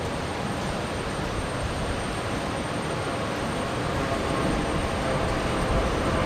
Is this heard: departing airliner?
yes